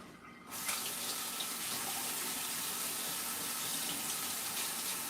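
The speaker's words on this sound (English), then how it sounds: "I got bacon fingers, though, so I need to do a little bacon finger rinse." A kitchen tap switches on and runs steadily as greasy hands from handling bacon are rinsed underneath, an even, close hiss of water with no talking.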